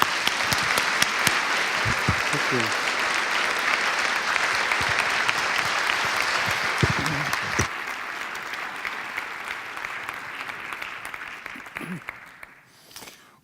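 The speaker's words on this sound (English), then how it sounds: "Let's give them a round of applause." Sustained applause from a congregation at a Unity Temple service, steady and full for about seven seconds, then thinning and tapering away with a brief spoken thanks near the end.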